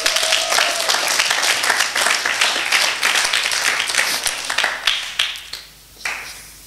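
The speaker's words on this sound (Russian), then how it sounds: "дайте Ване аплодисменты" A church congregation breaks into loud, dense applause that holds for several seconds before thinning to a few scattered claps and dying away.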